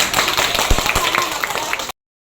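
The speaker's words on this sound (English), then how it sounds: "Round of applause, please." A classroom of Grade 7 students gives a round of applause, a fairly loud burst of mixed, uneven hand claps that stops abruptly after about two seconds.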